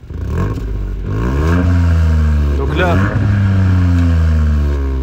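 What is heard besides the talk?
Ford Fiesta ST Mk8 engine revving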